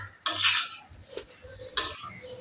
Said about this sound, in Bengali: ধনেপাতা দেওয়ার পরে একটুখানি নাড়াচাড়া করে নেব।